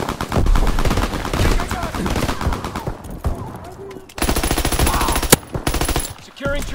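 Dense, sustained gunfire fills a Call of Duty WWII battle, with overlapping rapid automatic bursts and single shots, briefly thinning before the shooting surges again.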